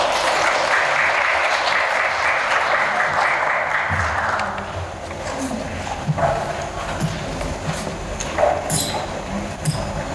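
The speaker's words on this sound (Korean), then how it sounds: "큰 박수로 맞아주세요" Enthusiastic audience applause at a Hangul Day speech contest welcomes a speaker, holding steady for about four seconds before fading into footsteps and light shuffling as she walks up.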